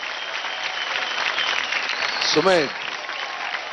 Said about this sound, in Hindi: जोरदार तालियां हो जाएगा।